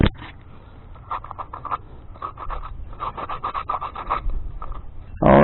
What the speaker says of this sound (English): we've got all the rust and everything off of these burners